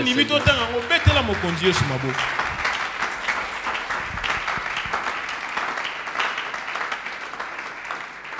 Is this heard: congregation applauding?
yes